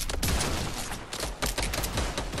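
Rapid, loud gunfire in a shooting video game crackles in close bursts throughout the short stretch, with no talk.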